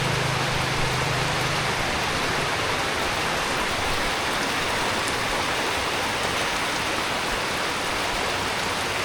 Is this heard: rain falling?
yes